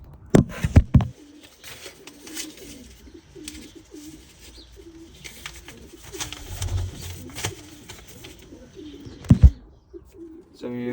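Pet pigeons or doves kept in a box coo repeatedly in soft, rhythmic phrases, with a few sharp knocks and rustles near the start and end.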